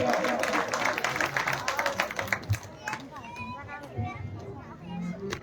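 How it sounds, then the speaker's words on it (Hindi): Loud applause and clapping from a Ramlila crowd in Barechhina for an actor, with children's voices and chatter mixed in, strongest at first and then thinning into scattered claps and talk. "इनके लिए भी जोरदार तालियां"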